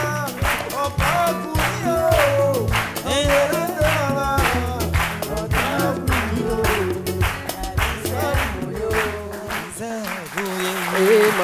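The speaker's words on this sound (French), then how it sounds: "Non, franchement, applaudissez pour lui." A studio audience applauds for a performer at a comedy show, clapping in a dense, continuous wash heard alongside louder singing and talk that dominate the clip.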